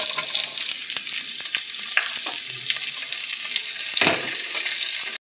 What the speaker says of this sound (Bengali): পেঁয়াজটা খুব লাল করে ভাজবো না, হালকা ভেজে নিয়েছি